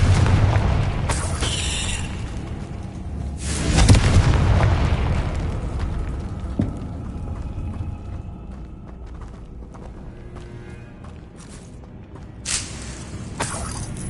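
A Confringo fire spell from the Hogwarts Legacy video game bursts in booming explosive blasts, a loud one near the start and another midway, with fainter impacts later over a steady game soundscape.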